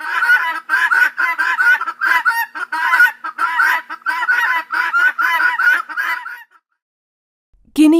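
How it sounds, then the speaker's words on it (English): Guinea fowl give a rapid, loud run of harsh, rhythmic cackling calls that continue steadily for about six seconds, then stop abruptly into silence. "Guinea fowl."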